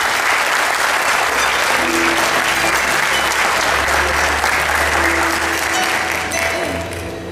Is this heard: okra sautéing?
no